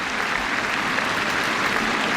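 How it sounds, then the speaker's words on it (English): Test cricket crowd at England v India applauding a departing batsman, a dense, sustained wash of clapping heard from a distance, steady throughout without voices. "the Indians are applauding him, coming and shaking his hands as he walks off"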